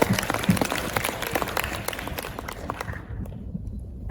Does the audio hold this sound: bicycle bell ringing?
no